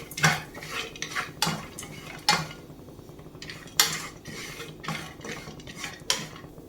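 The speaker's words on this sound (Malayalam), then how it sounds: "അതിലേക്ക് ബദാം പിസ്ത ക്രഷ് ചെയ്തത് ചേർത്ത് കൊടുക്കാം. ഇത് നമുക്ക് റോസ്റ്റ് ചെയ്തെടുക്കാം." Crushed almonds and pistachios roast in ghee in a pan, stirred with a metal spoon that clinks and scrapes against the pan in irregular bursts over a faint sizzle. No voices.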